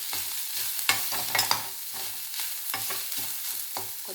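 Ginger sautés in oil in a pan, a soft steady sizzle broken by repeated scraping stirs of a spatula, close and fairly quiet.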